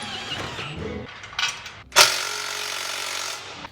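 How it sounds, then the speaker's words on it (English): A hand ratchet clicks briefly while bolting a coilover bracket onto a C-10 truck, followed by a louder metallic clatter in a workshop. "Get this sucker bolted into position."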